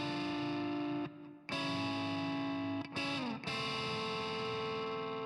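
Distorted electric guitar plays a solo, a sustained, effects-laden lead line that runs nearly unbroken with brief dips, loud and close with no talking.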